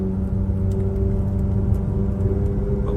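2001 Ferrari 360 Spider pulling away, a steady loud engine drone with low rumble and continuous whir, heard from inside the car with no talking.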